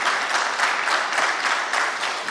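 Brief burst of audience applause in a governorship debate hall, a loud, dense patter of many hands that surges and dips slightly over a couple of seconds.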